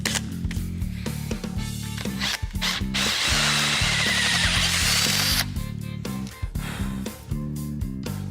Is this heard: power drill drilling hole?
yes